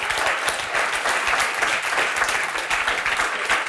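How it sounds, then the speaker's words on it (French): Audience applause at a panel discussion event, a steady, dense burst of clapping from a room full of people, loud and close, filling the whole moment without talk. "j'aimerais que vous l'applaudissiez."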